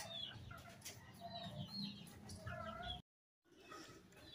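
Several chickens cluck and chatter close by in a steady stream, broken by a short silence near the end.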